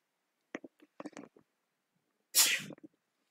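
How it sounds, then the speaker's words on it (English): A single loud, abrupt sneeze bursts out near the middle, preceded by a few faint, brief sounds. "I'm going to sneeze."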